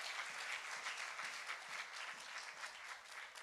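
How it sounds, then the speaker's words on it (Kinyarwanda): A church congregation applauding at a family thanksgiving celebration after a birth, dense sustained clapping from many hands at a moderate distance. "Dukomere Imana amashyi menshi cyane"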